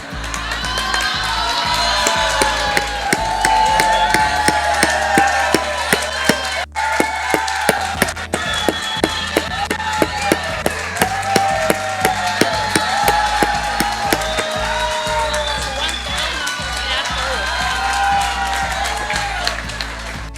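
A large audience applauds and cheers loudly and steadily, dense clapping mixed with shouts and whoops from many people, sustained throughout with no letup.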